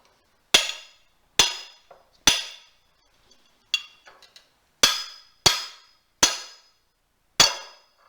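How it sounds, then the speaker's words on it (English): Sharp metallic hammer blows drive a bearing onto a rear axle pinion in a workshop: about eight loud, ringing strikes at irregular intervals, each decaying quickly, with a few faint taps between them. "This is a fine adjustment of the bearing, of the pinion, so the bearing can get pressed on."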